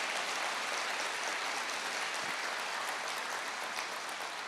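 Steady applause from a large crowd, dense and continuous clapping throughout without pause.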